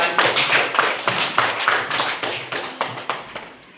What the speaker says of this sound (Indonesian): Beri aplaus buat Adiba yang mimpin ke depan.